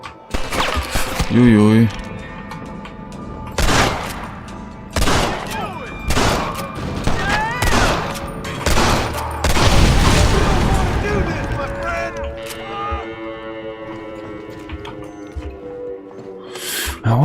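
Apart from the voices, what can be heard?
rifle gunfire in Red Dead Redemption video game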